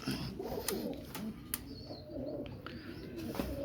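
A French hen pigeon and other teddy-breed pigeons coo quietly in low, throaty bursts, fairly near, against a noisy background with a few sharp clicks.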